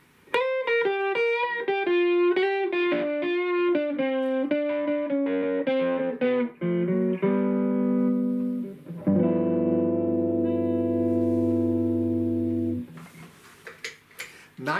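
Distorted electric guitar through a tube amp plays a run of crunchy single notes descending, then rings out sustained chords, loud and close, with no talking.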